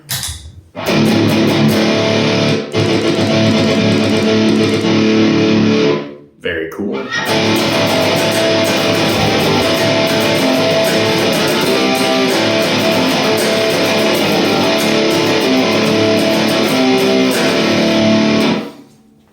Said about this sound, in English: We turn on a little bit of distortion here.